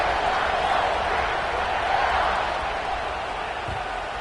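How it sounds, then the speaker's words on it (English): Football stadium crowd buzzing before a kickoff following a score, a steady loud roar of many voices at a distance, with an announcer's voice over it. "this crowd is buzzing after that last score"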